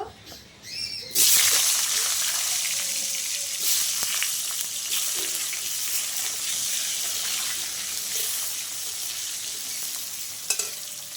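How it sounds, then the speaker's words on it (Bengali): Raw green banana pieces frying in hot oil in a kadai, a steady broadband sizzle starting after a brief quiet moment and holding loud and close throughout, with faint stirring clatter. "এবার কাঁচকলাগুলো ভেজে নেব"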